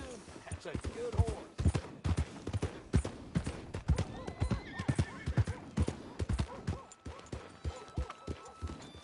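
In Red Dead Redemption 2, a horse's hooves clip-clop in an uneven series of sharp thuds while it whinnies, with a voice talking over the sounds.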